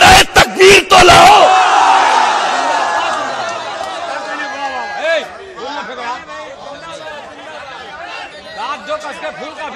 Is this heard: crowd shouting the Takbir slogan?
yes